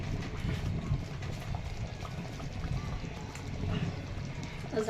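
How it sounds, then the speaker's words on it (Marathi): Thick gram flour batter bubbles and plops softly in a pot, a low continuous burbling with faint background noise, close by. "आवाज येतोय बुडबुड बुडबुड"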